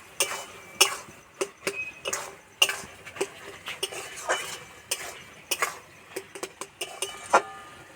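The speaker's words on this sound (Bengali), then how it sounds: "1 চামচ মতো ময়দা, 1 চামচ মতো ঘি। একসঙ্গে ভালো করে নেড়ে নেব।" A spoon stirs flour and ghee together in a pan for a vegetarian ash gourd ghonto, with repeated sharp metal scrapes and clinks against the pan in an irregular, close rhythm and no talking.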